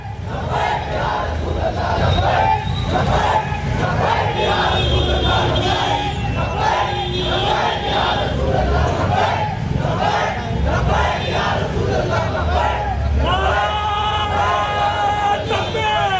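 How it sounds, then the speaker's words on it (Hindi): Large street crowd in Nagpur chanting provocative slogans during a riot, loud rhythmic shouted chants from many voices, dense and close, repeating throughout. "यहाँ पर जो भीड़ थी वो एक तरह से भड़काऊ नारेबाजी करने लगी।"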